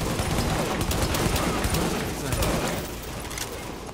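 Rapid gunfire in a video game aimed at a turret, a dense continuous crackle of shots at close range, loud and unbroken, with a voice talking over it.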